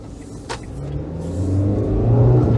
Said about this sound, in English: Let's get out on the open road and we can really open her up.